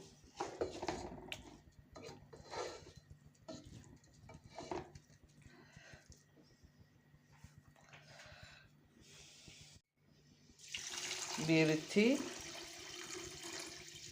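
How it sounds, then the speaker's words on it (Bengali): Water goes into a pot of soaked rice for tehari, heard as a splashing, gurgling pour near the end after quieter kitchen handling noises; someone speaks briefly early on. "পানি, চালের ডবল পানি দিয়ে দিলাম।"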